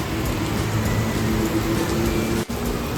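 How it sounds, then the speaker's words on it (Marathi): A heavy rain shower during a motorbike ride near Trimbakeshwar, Nashik, a dense, steady hiss that stays loud and unbroken throughout, with one brief dip near the end and no voices. "पावसाची मोठी सर लागली आहे"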